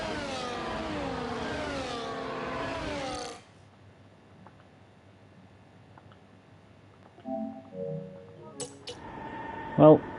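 A race car engine sweeps through rising revs in a racing game at Circuit of the Americas, loud and harmonically rich for a few seconds, then drops to near silence with scattered faint tones and clicks.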